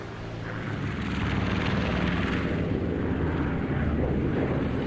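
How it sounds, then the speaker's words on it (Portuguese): Engines of a World War II bomber group returning to base over the Pacific drone steadily at moderate level, a dense continuous roar with a faint, rough low rumble and no voices. "O grupo de bombardeio retorna à base apenas com alguns arranhões da artilharia antiaérea."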